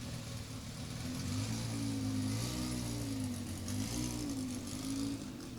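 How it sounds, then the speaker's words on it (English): Drag racing car engine at a racetrack, a sustained droning roar with a wavering pitch, heard from a distance with steady crowd-like background noise and no speech. "You can hear the engine going silent"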